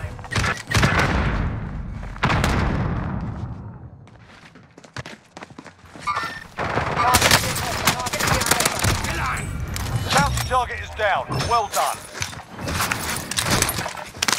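Gunfire bursts from a Call of Duty match on Rebirth Island, with rapid automatic volleys and booms, loud and close, mixed with a player talking over the action.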